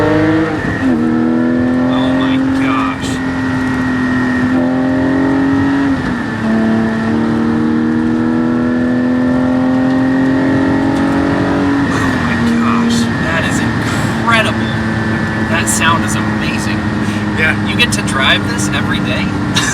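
A Porsche Cayman GT4 engine revs repeatedly toward 8,000 RPM, rising and falling in several sweeping pulls with a sharp, high-pitched wail, loud and close, with occasional voices mixed in.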